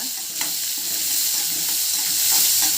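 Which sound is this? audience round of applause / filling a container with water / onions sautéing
onions sautéing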